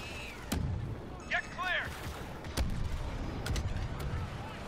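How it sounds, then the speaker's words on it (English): Gunfire and booming blasts in a Star Wars Battlefront 2 match, loud sharp reports scattered through the stretch over a continuous battle rumble, with a brief whistling burst partway through. "What are we shooting at in the sky for?"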